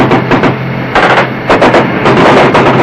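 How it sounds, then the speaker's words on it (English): Bursts of automatic gunfire from a riverbank aimed at a river patrol boat, loud rapid volleys coming in several separate clusters with brief gaps between them. "Return fire from the riverbank indicates a larger force supporting the crossing"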